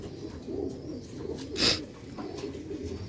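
Black-faced Sheikh pigeons coo close by, a few soft low throaty calls with one brief sharper sound partway through, and no voices.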